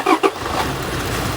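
Car engine starting after repair: a couple of short cranking bursts, then the motor catches into a steady close idle rumble.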